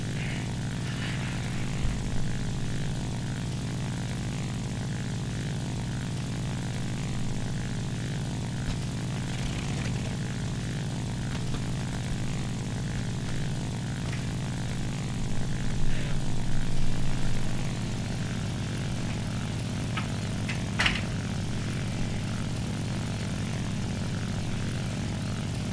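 Propeller aircraft engine in the War Thunder combat flight game, a steady droning hum holding throughout with a slight rise in pitch partway, alone with no talk.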